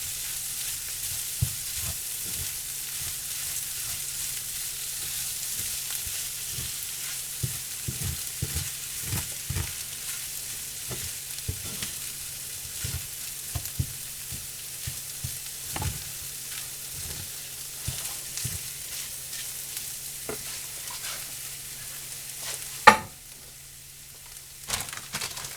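Cheddar cheese is stirred into ham and eggs frying in a pan. A low, steady sizzle runs beneath scattered soft scrapes and taps, with one sharp clank near the end before it goes quieter.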